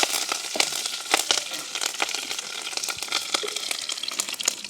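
Curry leaves and pandan leaves hitting hot oil in a village kitchen, crackling and spitting in rapid bursts of sharp pops over a constant close sizzle, with no voices.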